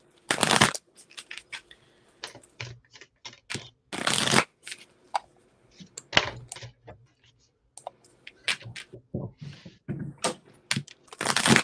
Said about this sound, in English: I want to shuffle from my love deck for you really quick